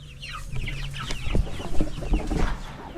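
Dekalb White hens cluck and chatter close by, a busy overlapping stream of short clucks and calls that rises and falls in loudness, with no talking.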